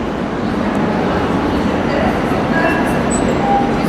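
A Sofia metro train pulls away through an underground station, its steady rumbling roar filling the space, with faint high squeals and tonal whines from the wheels and motors near the end.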